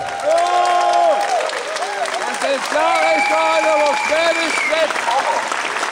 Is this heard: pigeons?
no